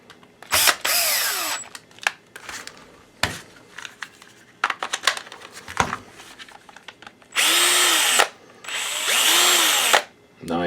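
A DeWalt DCD710 cordless drill/driver, newly fitted with a replacement motor, clicks and clatters between two loud, steady high-pitched whirring runs, each about two seconds long, up close.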